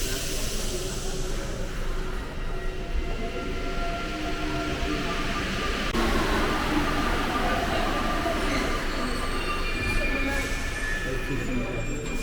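A Paris metro train moves along a platform fitted with safety barriers, giving a loud, continuous rumble and screech of wheels and motors. Station noise surrounds it, and voices are faintly audible underneath.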